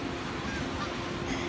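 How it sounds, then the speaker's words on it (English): Geese honk in the distance, faint calls over steady outdoor background noise. "There's geese."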